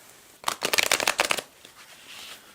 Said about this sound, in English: I did shuffle earlier, but we'll do it again a couple times.